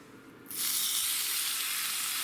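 Pastrami laid into a hot pan for a Reuben sandwich bursts into a loud, steady sizzle after a brief quieter start, the frying hiss holding evenly to the end with no voices.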